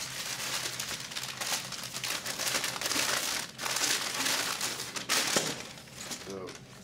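Packing paper crumpled and crinkled inside a shipped box of tabletop games, a steady close rustle with a few sharper rattles of parts near the end, under quiet speech.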